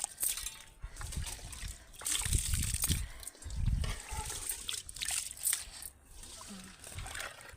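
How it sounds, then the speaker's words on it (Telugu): Soaked rice is poured into a pot of oil-topped water at a rolling boil for dum biryani, giving a series of close splashing, pattering bursts over bubbling, with a voice talking intermittently. "బియ్యం అయితే వేసేసుకుంటామే"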